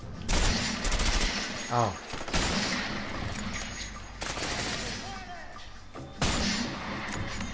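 Gunfire in the video game A Way Out breaks out in loud, repeated bursts of rapid shots with short gaps between, and a man briefly exclaims in between.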